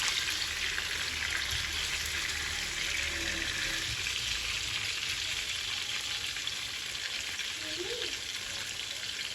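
Tanigue fish fries in hot oil in a pan, giving a steady, loud, close hiss and crackle that holds the same level throughout.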